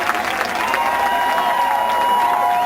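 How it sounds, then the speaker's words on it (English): A large crowd applauds and cheers at a USO show for troops in Balad, Iraq, a dense, continuous wash of clapping, loud and sustained, with faint tonal sounds riding over it. "Let's clap, everybody."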